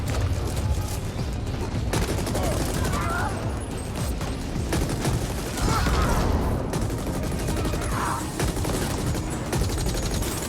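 Gunfire in the futuristic shooter game The Ascent, steady and dense throughout with repeated bursts and volleys, fairly loud with game noise layered underneath and no clear talk.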